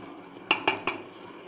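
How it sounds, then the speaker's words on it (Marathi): A metal spoon knocks three quick, bright clinks against a cooking pot while a spice mixture is stirred, close up, followed by a soft low background. "आता हे मिश्रण आपल्याला व्यवस्थित ढवळून घ्यायचं आहे।"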